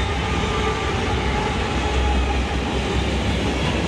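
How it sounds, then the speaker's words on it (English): CSX freight train led by two AC4400 locomotives and hauling an old Ann Arbor covered hopper rolls past the depot in Helena, Alabama, a loud, close, steady rumble and rail roar that holds for the whole stretch with no voices. "this was the only train that I caught down there and at the bottom"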